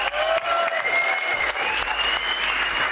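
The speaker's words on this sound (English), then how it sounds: "Let's give them a big round of applause." An audience at a 2019 awards ceremony honouring India's cricket World Cup squad gives dense, continuous applause, a loud, even wash of clapping that holds steady for a few seconds with no voices.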